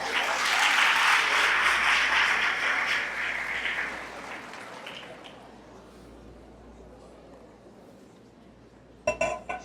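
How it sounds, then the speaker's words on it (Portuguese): An audience at a lecture for parents bursts into loud applause that holds steady for several seconds, then thins and fades to scattered claps, ending with a few sharp knocks. "Aplausos."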